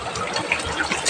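Water flowing steadily at a hot spring by a river, a continuous broadband gush and splash close by with no voices over it.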